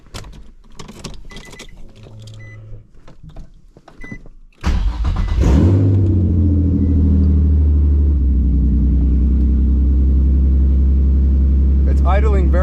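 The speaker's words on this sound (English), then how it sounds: "I'm not sure if it's idling rough because I don't have a full exhaust." A Nissan G35/350Z engine with no exhaust fitted starts up partway through and settles into a loud, steady, rough idle, preceded by clicks, clunks and faint movement sounds.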